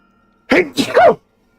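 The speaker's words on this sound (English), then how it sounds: "It's a Merry Christmas sneeze." A single close, loud human sneeze bursts out in two quick parts, with silence before and after.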